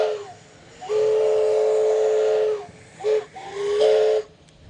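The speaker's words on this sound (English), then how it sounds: "they also have a steam train attraction out here" Steam train whistle at an outdoor vintage steam and farm equipment show at Santa Margarita Ranch, sounding loud, close blasts: one long sustained hoot, a short toot, then another longer blast, over a faint hiss of steam.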